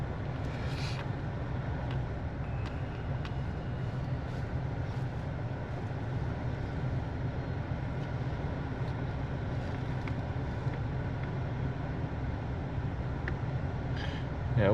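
A used car bought from a Copart salvage auction sits idling, its engine left running as a steady low rumble with wind buffeting the microphone and faint background voices.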